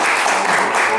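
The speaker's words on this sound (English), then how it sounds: "Big round of applause." A short, loud burst of sustained clapping from a gathered audience at the finale of a Survivor-style game, dense and continuous from start to end.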